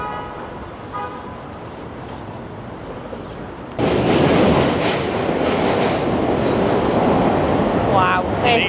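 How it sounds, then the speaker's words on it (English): A New York City subway train rumbles loudly across a bridge, its steady roar rising abruptly and holding as a continuous clattering wash, with faint voices underneath before it arrives. "And the subway goes across the bridge. Wow, is it noisy."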